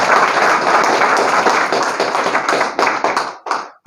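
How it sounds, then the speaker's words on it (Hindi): Loud, dense applause from a crowd, steady for about three seconds, then thinning into scattered claps before stopping. "एक बार जोरदार ताली।"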